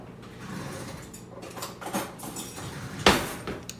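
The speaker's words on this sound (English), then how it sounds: "We've got our butternut squash, and now we peel it" A paring knife or peeler scrapes along a butternut squash, making several soft, close scraping strokes ending in one sharper, louder scrape near the end.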